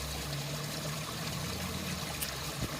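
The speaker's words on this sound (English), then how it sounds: "It was a small little leak and now it's a drip." Water dripping and trickling from a leaking pond hose fitting, a steady soft running sound, fairly faint and close, with no talking.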